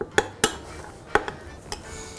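Tahini and molasses stirred together with a spoon in a small dish, giving a handful of sharp scattered clinks of metal against the bowl with quiet gaps between them, no voices.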